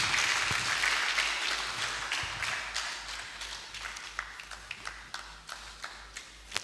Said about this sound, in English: I believe we can make the applause a bit louder for the Secretary to the Government of the Federation.